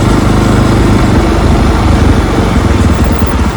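A motorcycle engine runs steadily on a city street near Girish Park in Kolkata, a close, continuous low rumble with no break across the whole stretch.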